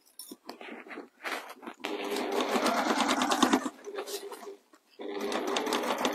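Sewing machine stitching a pie crust cushion: bursts of rapid mechanical whirring and needle chatter, with short pauses between runs, close and loud.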